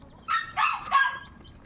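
Dogs bark three quick times in a row, close and fairly loud, with a quiet outdoor background and no talking.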